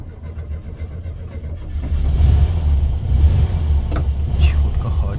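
An old Volkswagen Beetle engine running, a close, low rumbling idle that grows louder and steadier after a couple of seconds, with a few faint clicks on top.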